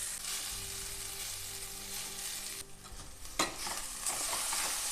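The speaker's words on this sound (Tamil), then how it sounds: "சாதத்தை நல்லா கட்டி இல்லாமல் பண்ணின்னு கூட்டிடணும்." Cooked rice stirred with fried coconut in a hot pan: continuous scraping and shuffling of a spoon through the rice over a soft sizzle, with a few firmer knocks.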